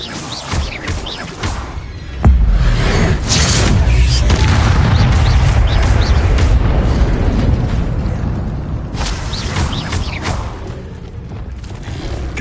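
A Bombarda spell detonates in Hogwarts Legacy, a heavy booming explosion bursting in around two seconds and rolling on as a loud, sustained rumble with crackling debris for the rest of the stretch.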